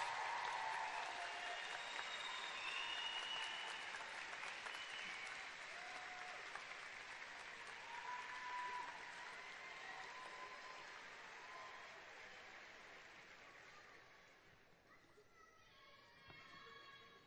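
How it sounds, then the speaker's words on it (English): Sustained applause from a large crowd at a 2014 Syracuse University School of Education convocation, dense steady clapping that gradually thins and fades toward the end. "offer a warm round of applause showing your gratitude for their support of your achievements."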